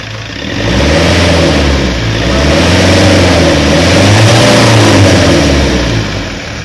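A car engine revs loudly and close as the accelerator is pressed, rising from idle into a sustained roar that swells and then eases back down over several seconds, with no voices.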